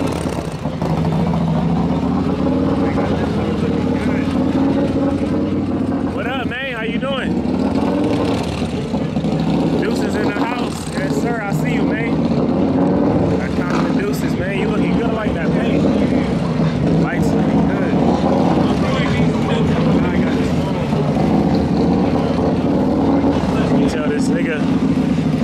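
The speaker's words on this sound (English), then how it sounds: "They got the bikes out though." Motorbike engines run at a bike meet outdoors, a steady loud rumbling drone with occasional revs, while people talk nearby throughout.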